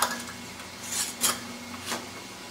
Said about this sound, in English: These are mason jars.